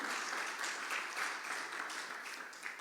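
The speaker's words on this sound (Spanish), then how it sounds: "Dale un fuerte aplauso a Dios" Steady applause from a crowd, dense clapping filling the whole stretch at a moderate, even level with no voices.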